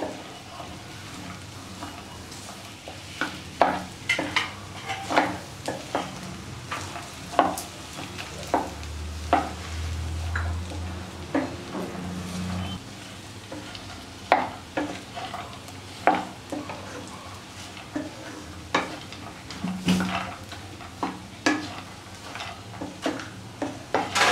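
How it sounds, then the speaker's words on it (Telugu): Spoon stirring ground dates into a dry fruit laddu mixture in a pan, a series of sharp scraping clicks and soft sizzle, repeated at irregular intervals, close and alone. "ఖర్జూరంను దీంట్లో వేసుకోవాలి. వేసుకొని ఒకసారి మిక్స్ చేసుకోవాలి."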